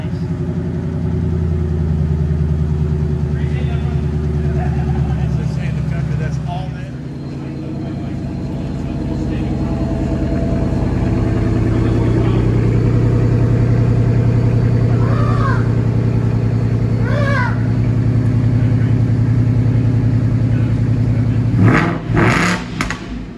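Supercharged Roush car engine at a Nashville car show, idling with a steady low rumble and rising into a revving burst near the end, close and loud.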